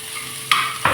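Tomato and onion chutney frying in a pan, a steady close sizzle with two sharper bursts of spatter as fresh pieces go in, no talk.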